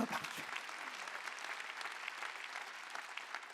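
A church congregation applauding together, a dense steady clatter of many hands clapping at once that holds evenly throughout.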